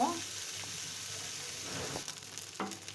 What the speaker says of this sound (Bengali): বাদামটা, মাছটা আর মশলাগুলা আমার খুব সুন্দর মতো মুচমুচি করে ভাজা হয়ে গেছে